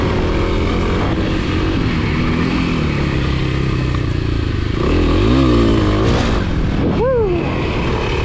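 A Kawasaki KLX300 dirt bike rips along a dry trail, its single-cylinder engine loud and close, droning with rising and falling revs and bursts of throttle near the end.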